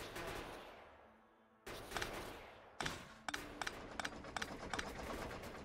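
Sniper turrets in Factorio fire a string of sharp cracks and thuds, irregular bursts punctuating a busy game soundscape of rumbling background noise, fairly close and without talk.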